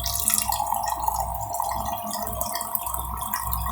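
Water is poured into a pot while rava upma is being made, a steady close splashing stream that runs the whole time with no talking.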